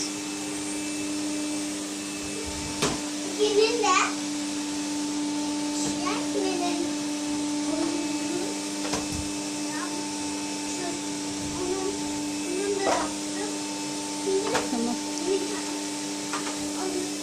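An electric vacuum cleaner drones steadily indoors while a house is cleaned, and someone talks intermittently over the motor.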